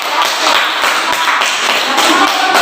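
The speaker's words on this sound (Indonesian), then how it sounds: "berikan aplaus untuk jawaban dari kelompok" A classroom group breaks into dense, steady applause in response to a group's answer, the clapping loud and sustained throughout.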